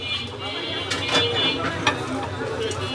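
Bare hands knead mashed bean paste with raw onion and fried onion and garlic, making close, soft wet squelches and faint rubbing in an irregular rhythm.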